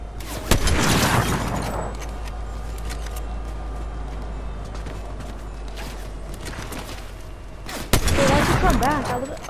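Gunfire in Fortnite, with bursts of rapid shots at the start and end framing a stretch of mechanical game noise, loud and close, while players talk over it.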